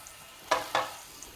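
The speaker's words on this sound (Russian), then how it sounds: "Жарится." Oil sizzling in a hot frying pan gives two short, sharp crackling hisses in quick succession over quiet background, heard alone and up close.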